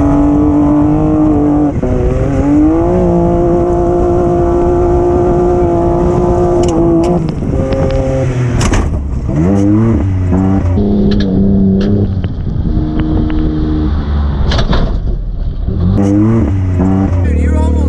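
A Can-Am Maverick X3 XRS side-by-side drives hard, its engine revving and shifting through repeated rising and falling pitch sweeps, loud and close throughout, with a brief drop off throttle midway.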